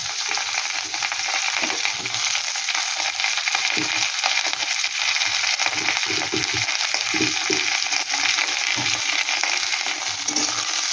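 Chopped onion fries in a pan with ginger and garlic, making a steady, dense sizzle with soft stirring crackles throughout and no voices.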